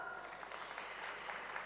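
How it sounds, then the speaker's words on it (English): Brief, steady applause from an audience at a learning forum, a dense even patter of clapping hands lasting under two seconds with no voices on top. "How about a big round of applause?"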